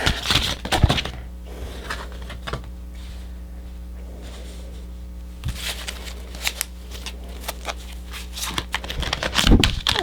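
Tarot cards being shuffled by hand for a pick-a-card reading, with riffling, crackly bursts at the start and end and softer, sparse card sounds between them, close and fairly loud.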